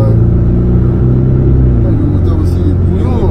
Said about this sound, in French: il ronronne quand même le moteur